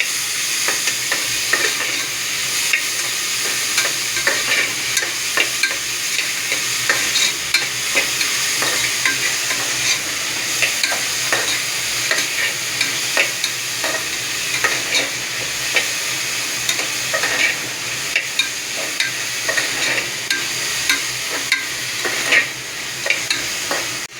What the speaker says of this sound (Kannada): ಇವಾಗ ಹಾಕೊಂಡಿದ ತಕ್ಷಣ ಮಿಕ್ಸ್ ಮಾಡೋಣ ಚೆನ್ನಾಗಿ.